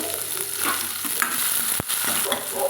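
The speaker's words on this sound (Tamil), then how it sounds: "தக்காளி சேர்த்து ஒரு ரெண்டு நிமிஷத்துக்கு வதக்கலாங்க" Tomatoes stir-fried in a pan for idli kurma give a steady, close sizzle, with spatula scrapes and stirring clatter running through it and one sharp knock near the end.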